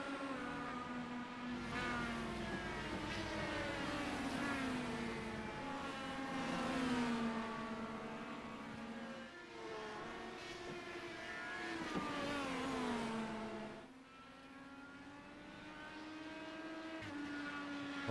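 Race cars lapping the Gulf Coast ICS Richmond track, engines revving up and down in sweeping rising and falling tones as cars pass, sustained and moderately distant.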